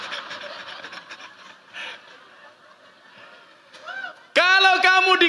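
A man imitates a turkey's gobble at a mosque thanksgiving gathering: a loud, warbling, rapidly repeated call that bursts out near the end after quieter crowd murmur.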